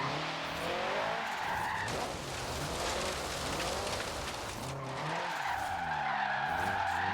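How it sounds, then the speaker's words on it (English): A car drifts with skidding, squealing tires in Forza Horizon 3, a loud sustained screech over a revving engine whose pitch rises and falls, with no talking. "Ultimate drift."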